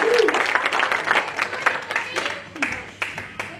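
A church congregation at a Sunday service applauds, fairly loud mixed clapping with a few distinct claps, while voices speak and call out over it.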